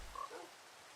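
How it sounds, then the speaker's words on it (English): A brief frog croak from a Minecraft swamp, fairly faint, one short call standing alone over quiet ambient background. "I hear like a sound, but I'm not sure if that's the frogs."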